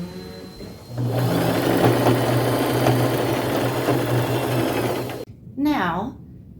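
A sewing machine runs in one steady, close whirring burst for about four seconds, stitching vintage lace onto a top, then stops abruptly as a voice briefly speaks.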